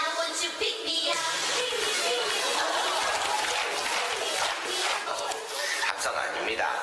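A large crowd shouts and cheers in a sustained roar, loud and continuous with bursts of voices rising and falling.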